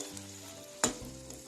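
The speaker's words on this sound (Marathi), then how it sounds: "वडी तळताना गॅस लो ठेवायची आहे वडी गोल्डन प्रमाणात अलटपलट करून घ्यायची आहे" A quiet, steady sizzle of sambar vadi frying in hot oil over a low flame, broken once by a short clunk.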